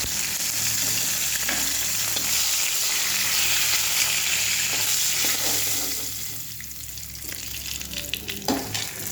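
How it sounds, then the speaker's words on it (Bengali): Fish head frying in hot oil with a steady, close sizzle that eases briefly toward the end, broken by a few clinks and stirring scrapes. "মাথাটা আমার ভাজা হয়ে গেছে, মাথাটাকে এবারে আমি নামিয়ে নেব"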